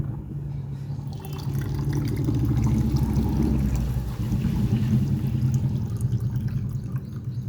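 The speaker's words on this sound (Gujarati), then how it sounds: "આપણે એની અંદર પાણી વેડી દઈએ." Water poured into a hole outdoors, a continuous gurgling, splashing stream with drips, moderately loud and close, with no voices.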